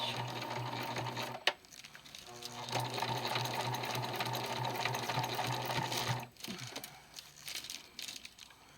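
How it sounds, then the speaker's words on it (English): A sewing machine runs a short back stitch at the start of a seam on blackout curtain fabric, a steady mechanical whirring hum that stops briefly and resumes, with soft fabric rustles and handling noises. "put my foot pedal here. Now when you start, I like to do a little back stitch."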